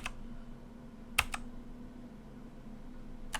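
Several sharp key presses on a computer keyboard, the backspace key, come as a quick pair of taps followed by a lone tap after a pause, faint over a steady low electrical hum.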